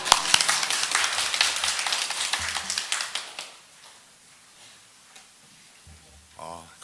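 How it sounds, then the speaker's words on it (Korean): A church congregation at a Sunday service applauds their pastor with a dense burst of clapping for about three seconds, which then fades to a quiet room before a voice briefly speaks near the end. "우리 박수로 모시도록 하겠습니다"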